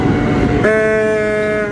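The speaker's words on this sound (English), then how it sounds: "That's another train." A New York City subway train (R160) rumbles past close by, its rolling noise giving way to a sustained, tonal horn-like whine that holds steady to the end.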